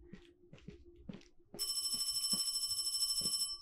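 An old-style telephone bell rings in a sewer in a Chinese horror video game, a loud steady trilling that starts partway through after footsteps and low ambience, continuing to near the end.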